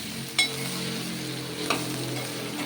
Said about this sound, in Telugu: ఈ పావు కిలో అండి క్యాప్సికము ఇట్లా కలుపుకుందాము